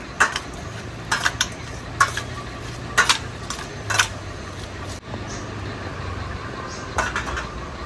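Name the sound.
frying jiol fish roe on gas stove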